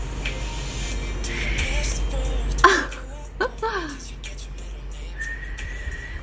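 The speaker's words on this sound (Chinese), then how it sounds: "能吹口哨吗？" A person tries to whistle, producing a few thin, breathy tones between brief throat-clearing sounds, close and fairly quiet, with talking around it.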